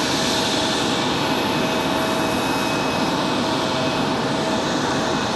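An Endeavor CRJ regional jet taking off at Raleigh-Durham airport, a loud continuous broadband engine roar that holds steady throughout, with no voices.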